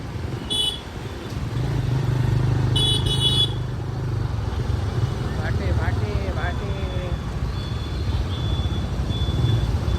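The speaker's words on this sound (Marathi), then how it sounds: "बघूया ट्रॅफिक एवढा आहे आज, बेकार गर्दी आहे." Heavy road traffic crawls through a crowded fair in Ratnagiri, with motorcycle and car engines droning close by and a few short horn toots cutting through. People talk over the steady engine rumble.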